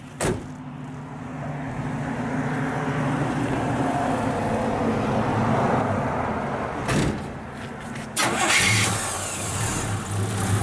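A 1964 Buick Skylark with dual Flowmaster exhaust cranks briefly and fires up, settling into a steady, rumbling idle close by, then a sharp throttle blip near the end.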